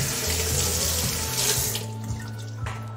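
Tap water runs loudly into a sink as mullet roe is rinsed under it, a steady splashing stream that briefly changes as the roe moves through the flow, with no talking.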